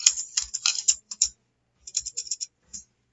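A password is typed on a computer keyboard in two short bursts of quick, close keystrokes separated by a brief pause, with no talking.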